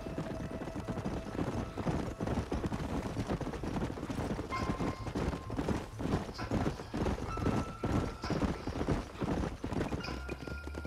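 Horses ridden at a steady pace in Red Dead Redemption 2, a continuous rhythmic clip-clop of hooves across a canyon trail, with a brief whinny and faint wind and game ambience under it.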